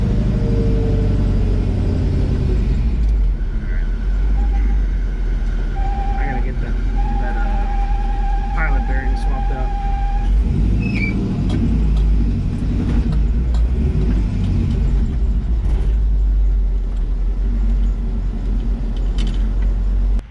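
A Chevrolet Nova's engine rumbles steadily from inside the cabin on a test drive after a hydroboost brake swap, with road noise throughout and faint sirens or tones drifting in the background.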